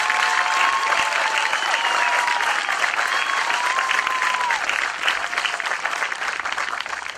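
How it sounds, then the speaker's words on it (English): Sustained audience applause fills a graduation ceremony hall for a departing staff member, a dense wash of clapping held at steady loudness that eases slightly near the end, with faint crowd murmur beneath. "Let's give her a large round of applause for a great job"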